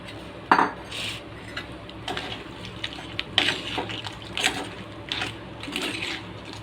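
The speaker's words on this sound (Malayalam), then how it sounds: "ഒരു സ്വല്പം വെള്ളം കൂടെ തളിക്കാവേ." Brief splashes of water sprinkled into a pan of sautéing onions for crab roast, amid clinking utensils and soft hissing, in short scattered bursts.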